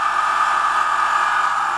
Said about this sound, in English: That's what the compressor sounds like when it's airing up.